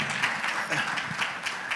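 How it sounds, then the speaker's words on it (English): An audience at a money summit applauds briefly, a soft, fairly distant patter of clapping that continues steadily for a couple of seconds. "Please, a round of applause for Mr."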